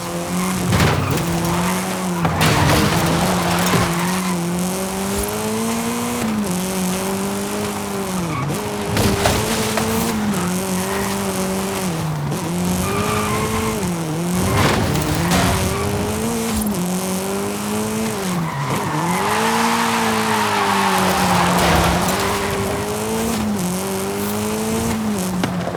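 Monster truck engine roaring and tires skidding through a race in the video game Forza Horizon 5, a loud, continuous revving drone with rising and falling pitch sweeps and repeated screeching tire squeals.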